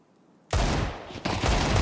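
Rapid SMG bursts in a Counter-Strike match, loud and close, opening abruptly after a near-silent moment and rattling continuously with a second burst layered in partway through.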